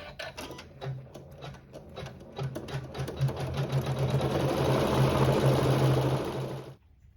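A sewing machine quilting fabric starts with a few slow stitches, then speeds into a steady close whirring run of rapid needle strokes before stopping abruptly.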